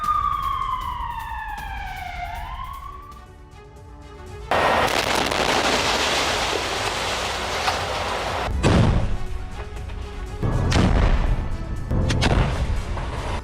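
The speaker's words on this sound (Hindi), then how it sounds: "इजरायली फोर्स पर जबरदस्त फायरिंग हुई है।" Gunfire is exchanged in a battle in Gaza: a wailing, siren-like sweeping tone gives way to sudden loud bursts of broadband blasts and crackling fire that recur in heavy waves.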